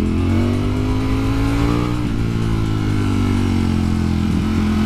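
A 2020 Ducati Streetfighter V4 motorcycle engine drones loud and close at sustained revs, a steady rising and easing V4 note heard from the rider's position, with no talking over it.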